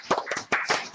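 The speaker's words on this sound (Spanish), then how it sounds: "y de acá te aplaudimos." A small group claps in brief applause at the close of an online talk, a few quick, irregular hand claps over about a second, moderately close and without voices.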